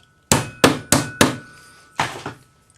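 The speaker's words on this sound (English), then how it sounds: "just use your rawhide hammer on the bench in the noise room" A rawhide hammer shaping a cuff bracelet on a bench: four quick dull thuds in a row, a pause, then one more, close and distinct.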